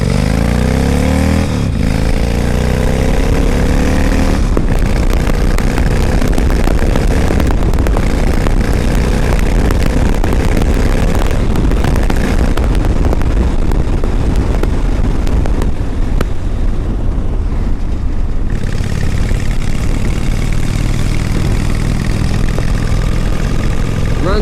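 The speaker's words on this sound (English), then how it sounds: "There's definitely a muffler shield that's shaking around back there." A 1995 Honda Shadow 1100 motorcycle with a loose, shaking muffler shield runs loud and close, its engine rumbling continuously with swells of revving and a brief drop before surging again.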